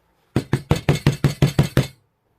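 A hammer strikes the underside of a table holding a curing liquid polymer clay mould with nine loud, close, evenly spaced knocks in a steady rhythm, then silence.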